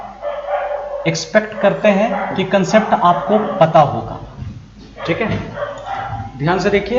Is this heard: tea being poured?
no